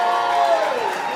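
A concert audience gives a massive round of applause at a legends awards show, dense, steady clapping and crowd noise filling the space throughout.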